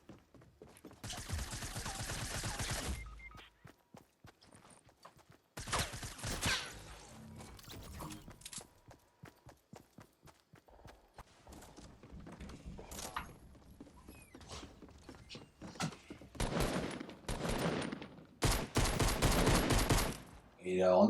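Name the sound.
gunfire in the video game Fortnite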